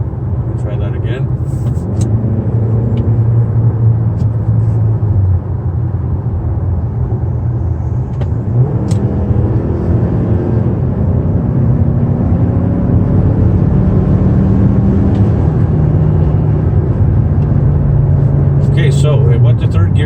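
A 2019 Mazda CX-5 with a 2.5L turbo engine drones and pulls as it accelerates after a downshift, its engine tone rising steadily inside the cabin while a person talks over it.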